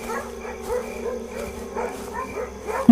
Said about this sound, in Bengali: আশেপাশে যতগুলো কুকুর ছিল সকলে তারস্বরে যোগ দিচ্ছে।